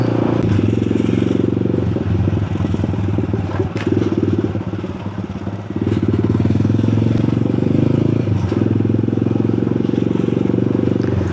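A Honda Grom MSX motorcycle hums loudly and steadily while riding through Pattaya City, its small engine droning close with rattling and wind buffeting, the note easing briefly mid-ride before resuming.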